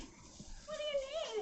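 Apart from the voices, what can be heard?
dog whining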